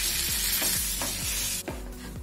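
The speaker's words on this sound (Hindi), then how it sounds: "बटर ऐड किया, अब 1 चम्मच भर कर इसमें मैदा ऐड कर देंगे।" A spoonful of flour (maida) is stirred into melted butter in a pan, a loud constant sizzle with rhythmic scrapes of a spoon about every half second, with no voices.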